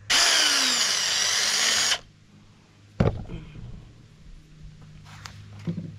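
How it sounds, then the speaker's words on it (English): Power drill whining steadily for about two seconds as it bores a hole, then stopping abruptly, followed by a sharp knock and scattered quieter handling clatter nearby. "Oh, don't tell me I drilled in the table."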